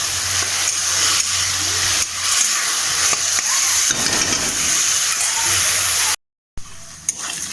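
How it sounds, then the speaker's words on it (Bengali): Onion and garlic sautéing in a hot pan for a Bengali crab curry, a steady close sizzle and hiss running throughout with a brief break near the end, no talking. "পেঁয়াজ আর রসুনটা একটুখানি কষিয়ে নেবো"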